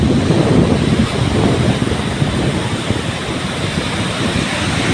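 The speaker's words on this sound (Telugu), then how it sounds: "అలలు బాగా తీవ్రంగా వస్తున్నాయి" Strong sea waves surge onto the shore during a crab-catching outing at the beach, a continuous loud roar of surf and wind noise with no talking.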